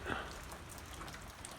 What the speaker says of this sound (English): But it is raining a little bit right now